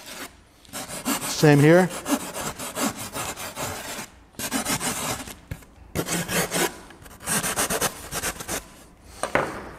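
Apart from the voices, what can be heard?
rasp filing wood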